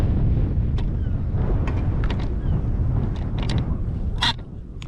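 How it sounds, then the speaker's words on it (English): Strong wind roars against the microphone throughout on a riverbank during saltwater fishing for mullet, steady and blustery, with a few faint knocks and clicks and a brief hiss near the end. "It is windy, I'll give you that."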